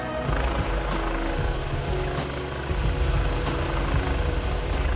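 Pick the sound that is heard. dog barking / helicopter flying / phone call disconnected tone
helicopter flying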